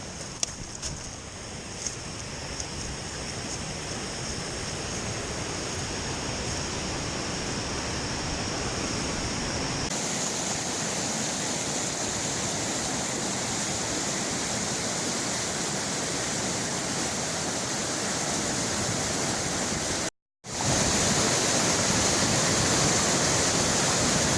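Constant roar of water tumbling over a small waterfall on a little creek, steady and close, with a brief dropout near the end.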